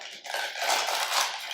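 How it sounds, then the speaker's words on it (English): Ice poured into glasses for a pomegranate beer shandy cocktail, a dense rattling clatter of cubes lasting just over a second, close and fairly loud. "The next thing we're going to do is top these glasses off with some ice."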